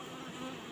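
Honeybees at a thermoplastic hive make a soft, steady buzzing hum, faint and brief, with no voices over it.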